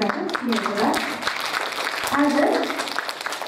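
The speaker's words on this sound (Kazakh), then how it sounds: "Ал сахнадағы қол шапалақтап балаларға марапат жасап қойсаңыз" An audience claps steadily for children on stage at a first-grade school celebration marking the farewell to the alphabet book, with the sustained applause running under a speaking voice.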